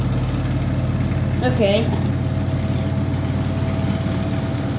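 A Samsung inverter washing machine spins at 1200 RPM on a carpet, giving off a loud, steady low hum and rumble throughout, with a brief spoken word early on.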